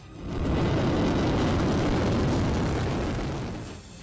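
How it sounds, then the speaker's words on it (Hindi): A missile launch from an Iranian media animation roars up in a broad, loud rushing blast that swells quickly, holds steady for a few seconds, then fades, with no voices over it. "ईरान के मीडिया ने जो एनिमेशन वीडियो जारी किया उसमें एक साथ कई मिसाइलें हमले के लिए उड़ती दिखाई दी"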